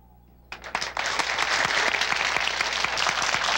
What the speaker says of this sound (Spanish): Muchas gracias por su aplauso.